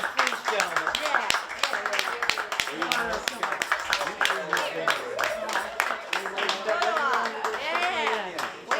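Audience applause for two performers, Dave and Tom, at the close of a shipboard show, dense clapping with sharp individual claps throughout, cheering voices and talk mixed in.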